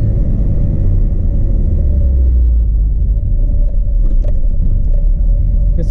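A car with a 1.6 engine driving in second gear over a speed bump, giving a steady, loud, low engine rumble throughout.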